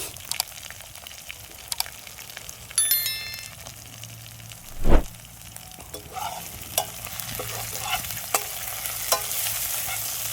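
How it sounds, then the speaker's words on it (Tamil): Mutton sautéed with rock salt, turmeric, chilli powder and pepper powder, stirred continuously: quiet spoon scrapes and soft sizzling with one louder clatter midway. No one speaks. "இது எல்லாம் நல்லா பச்சை வாசம் போகிற வரைக்கும் நல்லா இப்படியே கை விடாமல் வதக்கிக்கலாம்."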